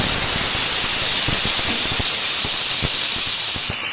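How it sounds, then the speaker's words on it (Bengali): Cut potato pieces frying in hot oil with turmeric in a pan, a loud steady hissing sizzle throughout with faint crackles and pops, close up and without any talk. "আলুটা খুব ভালোভাবে ভেজে নেব।"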